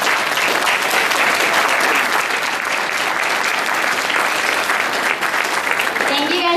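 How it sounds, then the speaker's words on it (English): Steady, dense applause from an induction ceremony audience for the 2018 MSU Tower Guard, even and sustained throughout, with faint voices mixed into the clapping near the end. "we can give them a round of applause"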